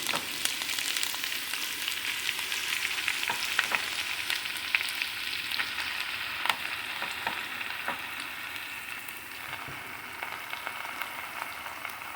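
Leafy greens frying in a pan for a home-cooked meal, giving a steady bright sizzle with scattered crackles and light stirring over the whole stretch, close and alone with no talk.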